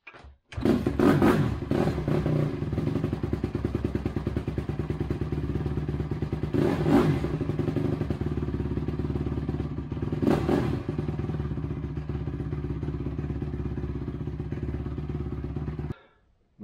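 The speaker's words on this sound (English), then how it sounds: "this is a cool little bike. Got lots of power, she runs real good" A 2007 Honda CRF150R dirt bike engine idles steadily and loudly for the whole stretch, with a few short blips of the throttle rising above the constant running note.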